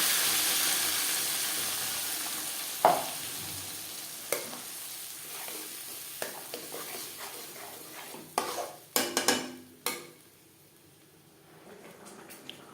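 Garlic, onion and tomato paste, with ginger and green chili paste, fry in hot oil for a fish-head murighonto. A steady close sizzle runs throughout, broken by several sharp spoon clinks and stirring scrapes against the pan.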